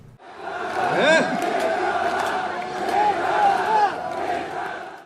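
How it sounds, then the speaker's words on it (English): K-pop concert crowd chanting together in Korean after the performance, a loud, swelling chorus of many voices with rising and falling chant phrases, near and continuous. "Listen to the crowd after the performance finishes. They're chanting "괜찮아" or "It's okay.""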